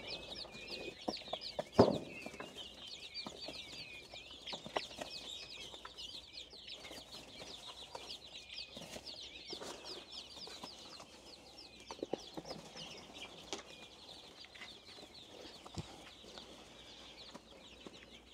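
Newly hatched mini bantam chicks share a brooder with peachicks, peeping and chirping steadily and softly throughout, with occasional louder clucks and scratchy rustling nearby.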